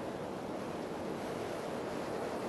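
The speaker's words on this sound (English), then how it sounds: "And there are waves!" Ocean waves washing onto a sandy beach in a video game, a continuous broadband rushing hiss of surf, steady and fairly loud without a break or any voices.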